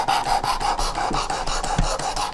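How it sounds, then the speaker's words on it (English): A dull broadhead arrow tip is drawn repeatedly across a sharpener, giving close, loud, steady rasping strokes in a quick, even rhythm with no talking. "Looks like it's not sharpening the edge on all the way out to the front."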